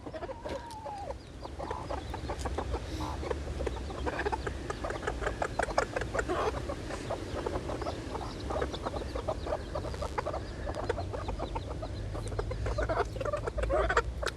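Chickens cluck and chatter continuously in a small farm coop, with a rooster, broody hens and newly hatched chicks all close by under a low background rumble.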